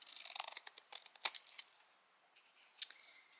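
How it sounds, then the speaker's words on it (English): Paper being trimmed with scissors while making junk journal tags from recycled packaging, a run of quiet crisp snips in quick succession, then a pause before a couple more sharp cuts, close and alone with no talk. "I'll trim this."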